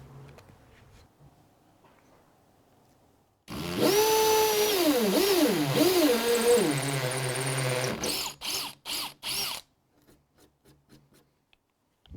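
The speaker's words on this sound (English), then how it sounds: "we can do this with a battery drill, but your drill will need to be capable of drilling into the brick, mortar or masonry fence" Cordless battery drill boring into a brick or masonry fence, loud and close: a steady high whine with rising and falling pitch for about four seconds, then several short bursts of drilling before stopping.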